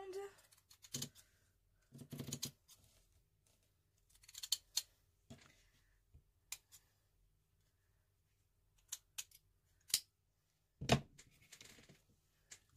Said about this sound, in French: Hop, donc on vient découper nos bandes